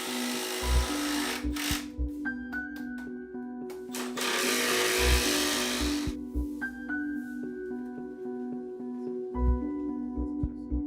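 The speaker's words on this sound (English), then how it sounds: "screw or tack the space saver to the studs, making sure it's centered horizontally" A power screwdriver drives screws through a space saver into wall studs during speaker installation, sounding in several short whirring bursts with pauses between them, quiet and close.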